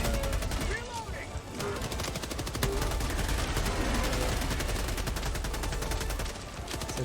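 Liberator assault rifle fire in Helldivers 2 rattles in rapid sustained automatic bursts, dense and continuous across the whole stretch, with other battle noise mixed in beneath.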